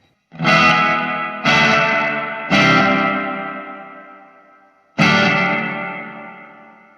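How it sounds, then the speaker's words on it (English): Four strummed electric guitar chords through a Vox AC10C1 amp with digital reverb at maximum, each followed by a long, drenched reverb tail that slowly fades over several seconds before the next strike. "I think it's probably some sort of digital reverb emulation"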